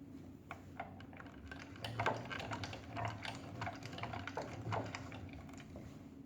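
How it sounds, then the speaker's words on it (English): A hand-cranked axial flux alternator feeding two light bulbs spins up faster, giving a faint, rapid mechanical clicking and ticking that swells in rhythmic pulses. "this is me turning the crank faster"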